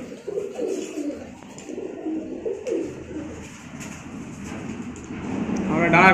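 Teddy baby pigeons at a sale coo softly in low, rolling murmurs beneath someone talking close by, with a rising hiss near the end.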